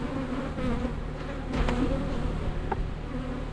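Honey bees buzz in a steady swarm around a hive box during a beekeeping inspection, a close, continuous droning hum with individual bees zipping past.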